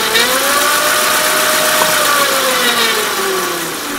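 Razor MX350 electric dirt bike motor running steadily, a loud close whine that sweeps in pitch as the bike speeds up and eases off, with no talk.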